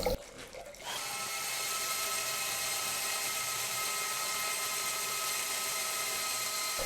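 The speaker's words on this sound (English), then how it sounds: "I don't want to burn out the motor on the drill." Power drill motor spinning a homemade magnetic induction water heater, a steady loud whine with a dense high hum that starts after a brief rough moment and holds evenly to the end.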